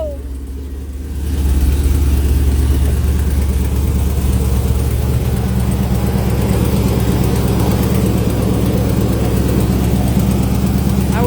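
A car engine starts up and then idles steadily and loudly up close, a low continuous rumble holding for several seconds with no talk.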